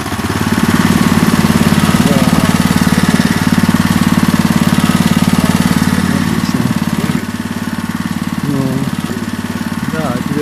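A small engine runs loud and steady with a rattling, throbbing drone while rural land is cultivated, dipping slightly in level partway through, with faint chirping audible over the running machine.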